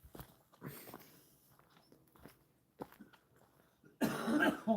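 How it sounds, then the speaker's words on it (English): A few short coughs close by, spaced apart over quiet rustling and footsteps, followed by a burst of louder noise at the end. "He's still got a cough."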